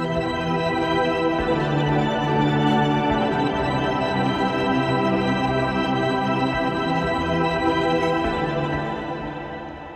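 Ambient guitar sample from the Westwood Instruments Lost Guitar library, forming a thick, continuous wash of layered sustained tones that swell gently and taper off toward the end.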